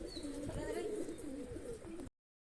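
Large breeding pigeon, cooing softly and steadily in a low, throaty rumble over faint background noise, ending abruptly after about two seconds.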